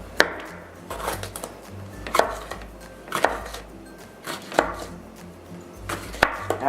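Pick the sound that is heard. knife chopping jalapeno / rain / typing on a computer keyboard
knife chopping jalapeno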